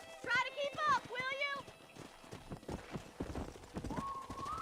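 Horse hooves clip-clop at a steady gallop in the Red Dead Redemption video game, a run of dull rhythmic thuds that follows a stretch of talking voices, with a tonal sound rising at the end.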